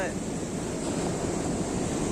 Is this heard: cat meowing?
no